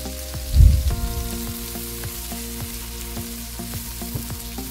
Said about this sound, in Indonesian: Tumis lebih dulu bawang bombaynya hingga layu.